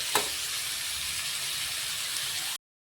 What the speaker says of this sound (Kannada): ಇಲ್ಲಿ ಇದನ್ನು ನಾನು ಸ್ವಲ್ಪ ಇದೇ ರೀತಿ ಫ್ರೈ ಮಾಡಿಕೊಂಡು ತೊಗೋತೀನಿ